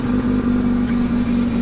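A rescued Mazda RX7's engine idles steadily close by, warming up: an even, unbroken hum with a low droning pitch and no revving, with no voices over it.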